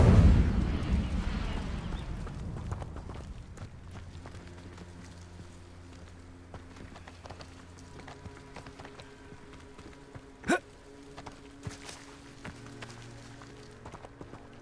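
An Incendio fire spell bursts in Hogwarts Legacy as a loud crackling flare that fades over about two seconds. Quiet game ambience follows, with one brief sharp click partway through.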